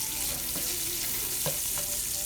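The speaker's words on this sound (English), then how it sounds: "The bacon over here is still rendering down." Bacon renders in a pan, giving a soft, continuous sizzle with a few light knocks from stirring, fairly quiet and with no speech.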